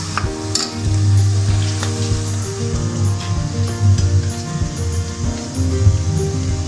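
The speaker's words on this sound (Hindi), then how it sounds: "थोड़ा सा मैं घी डालूँगी और इसमें लहसुन अदरक का पेस्ट डालूँगी और उसको हल्का सा फ्राई करना है" Meat sizzles and crackles steadily in hot ghee with garlic-ginger paste, a close, continuous fry over a low, even hum, with no talking.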